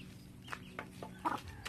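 A chicken clucks in short, soft bursts, several quick clucks in an irregular rhythm, close by and fairly quiet, with no talking.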